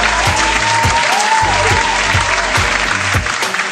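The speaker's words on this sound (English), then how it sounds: "Give her a round of applause for that." A small studio audience applauds in a radio studio, loud close clapping over a rhythmic thumping music beat, with no talk over it.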